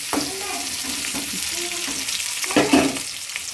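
Chopped onions frying in a pan for restaurant-style dry chilli paneer, giving a steady close sizzle with brief stirring clatters and a louder burst of crackle near the end.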